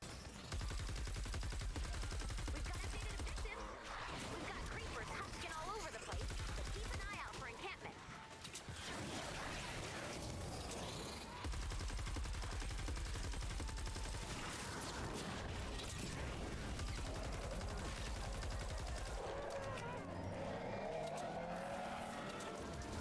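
Siegebreaker weapon firing in video game gameplay, dense bursts of loud gunfire and impacts mixed with engine and skidding noise, continuous and busy throughout with a few brief lulls.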